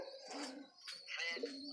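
Pigeons kept in a rooftop breeding setup of about fifteen or sixteen birds coo in low, rolling bursts, close and fairly loud, with brief chirps between the coos and no talk.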